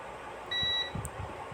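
A short steady electronic beep from a multimeter continuity buzzer checking a fuse in a DVD player, lasting about a quarter second, over a low background hum.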